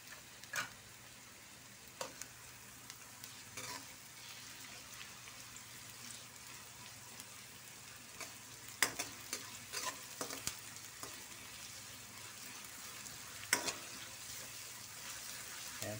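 Onion and garlic sauté in a pan with a soft, continuous sizzle, broken by intermittent scraping clicks of a utensil stirring. The sound is faint and close, with no talking.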